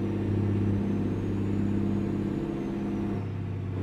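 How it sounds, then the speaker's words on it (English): A Kenworth W900 truck with a Cummins ISX engine and 6-inch straight pipes rumbles in American Truck Simulator, a deep steady drone that shifts pitch slightly as it pulls a heavy trailer. "It's a really nice sounding truck"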